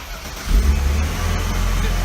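A Mercedes W124 with the M104 engine, freshly fitted with a new MAF sensor, cranks and catches, then settles into a loud, steady running rumble close by.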